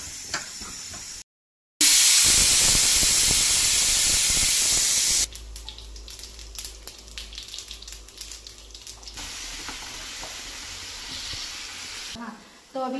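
Steady, loud hissing of steam from a pressure cooker whistle, then quieter kitchen clatter and faint sounds afterward.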